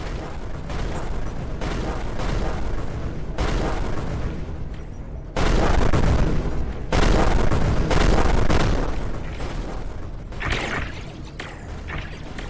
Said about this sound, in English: You hear those explosions.